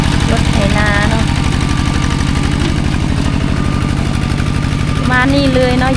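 A Thai farm tractor engine runs steadily close by, its low rhythmic chugging pulsing throughout, with someone talking over it and brief whistle-like tones near the start and end.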